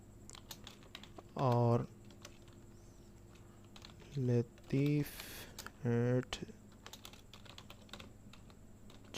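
Computer keyboard typing runs as quick, light key clicks through a short stretch of data entry into a web form, with someone speaking in short bursts between the keystrokes.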